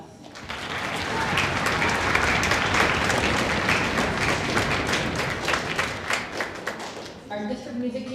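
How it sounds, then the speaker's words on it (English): A crowd at an elementary school band concert gives sustained, loud applause for the music teachers, a thick wash of clapping that holds steady for several seconds before someone begins speaking. "so let's give them a round of applause"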